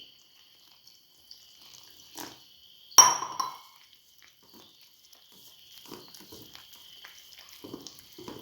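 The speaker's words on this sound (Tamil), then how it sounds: "தண்ணி ஊற்றி" Water is poured into gram flour mixed with a little salt in a bowl for making laddoo: one brief, close splash, then faint trickles and soft drips in a quiet kitchen.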